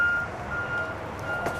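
Backup beeps from a semi truck hauling an oversize load as it reverses, a steady repeating tone over low engine rumble, fairly close and moderately loud.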